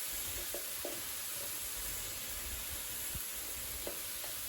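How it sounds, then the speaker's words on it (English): Sweet onions searing in a hot pan give a steady, close sizzle with a few faint scrapes of stirring. "We're searing the onions a little bit"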